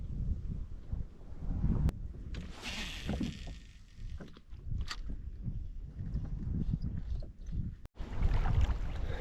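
Gusty wind buffets the microphone on open water while fishing from a boat off Alaska, with irregular low rumbles, a few knocks and sharp clicks, and no talk.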